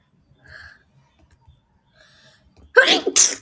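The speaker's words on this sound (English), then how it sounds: "Stop sneezing." Two sharp sneezes in quick succession burst out close and loud near the end, after a stretch of near silence broken only by faint, brief vocal sounds.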